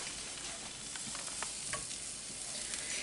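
Halved food sizzling face down in a warm skillet, a steady quiet frying hiss with small crackles and pops scattered throughout.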